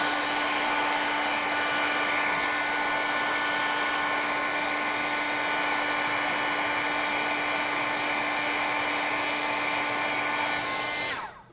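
Heat gun blowing onto embossing powder to melt it, a loud, steady whirring hiss with a constant motor whine that holds for about eleven seconds before cutting off at the end.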